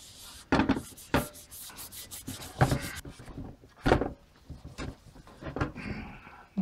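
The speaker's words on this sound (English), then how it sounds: "Once I've cleaned it, I'll also make sure that I get rid of any of the residue" Irregular scrubbing and wiping strokes on a BMW E46 318i automatic transmission part, close rubbing bursts with short gaps and occasional light knocks.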